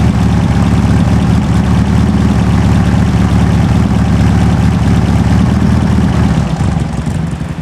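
A 1970-era sand rail with a 2.2L engine and dual 44 IDF carburetors idles on a cold start, giving a loud, steady, close rumbling drone with a slight fade at the end.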